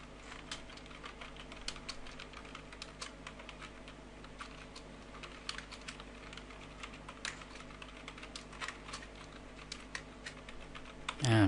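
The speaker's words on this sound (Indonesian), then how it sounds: "saya akan ketik" An article being typed on a computer keyboard, with quiet, steady, continuous keystroke clicks at an even pace throughout and a louder clack at the very end.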